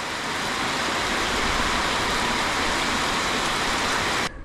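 Sudden heavy monsoon-like rain pours during a bicycle tour in Southeast Asia, a loud, steady roaring hiss of downpour that cuts off abruptly at the end, with no voices.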